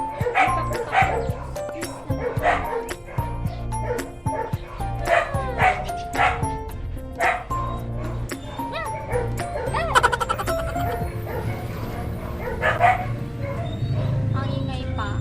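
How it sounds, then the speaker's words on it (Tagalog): Several dogs bark and yip noisily near a home, repeated sharp barks and whimpers coming in irregular bursts, loud and close, with someone talking between and over them. "Ang ingay ng mga aso."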